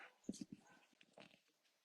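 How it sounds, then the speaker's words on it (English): A dog barks and whimpers in short yips at a distance, faint and mixed with a person talking nearby. "Oh, that dog."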